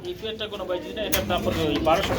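Pigeons coo at a busy pigeon market, soft throaty calls rising over constant crowd chatter and nearby talk, the birds close but partly masked by voices.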